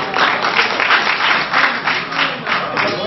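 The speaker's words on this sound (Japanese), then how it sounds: "あなた方の拍手は一体何の拍手なの" A burst of steady applause from a room full of people in a Japanese parliamentary session, dense clapping sustained throughout at an even loudness.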